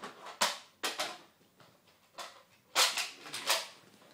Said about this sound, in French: Ça, c'est le bruit d'Alpha Trooper.